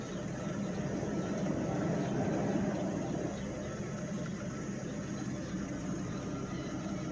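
A 1997 Mercedes S600 engine idles smoothly with the air conditioning running, a low, steady hum inside the car with a faint hiss over it and no change in pace.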